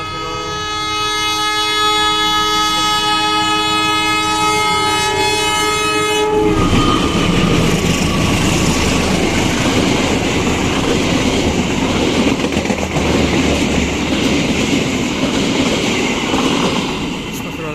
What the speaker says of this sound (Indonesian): Awas, Pak, mau ada kereta ini sebenarnya.